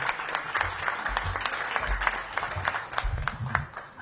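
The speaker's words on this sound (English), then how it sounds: "One more round of applause for our Teacher of the Year." Sustained applause from an audience honoring the 2024 DC Teacher of the Year at a mayoral announcement event, steady dense clapping with no break for about four seconds.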